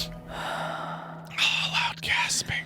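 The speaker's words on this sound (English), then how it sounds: "loud gasping" Loud, breathy gasping from a game trailer shown during the Xbox Summer Show 2025, several sharp intakes of breath in quick succession over a steady low hum.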